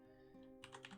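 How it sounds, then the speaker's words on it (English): Quiet keyboard typing, a short burst of several quick keystrokes near the end over a faint steady hum. "Sorry if the keyboard's loud."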